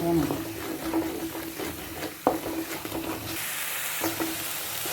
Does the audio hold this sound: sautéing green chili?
yes